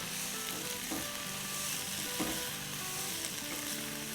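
Spiced potato filling with crushed chillies being stirred in a hot pan gives a steady close sizzle with soft scraping strokes, alongside faint steady tones throughout.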